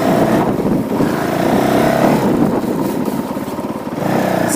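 A Honda CRF450L dirt bike engine is ridden hard in warm weather, its loud, close exhaust rapping and surging through quick throttle changes with a choppy, pulsing rhythm.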